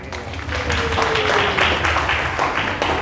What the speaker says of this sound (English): So let's give applause for everyone.